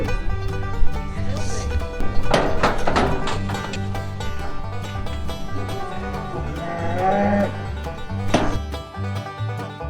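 Cattle on a farm moo in several long, loud, drawn-out calls, near and overlapping, with a few knocks and faint voices in the background.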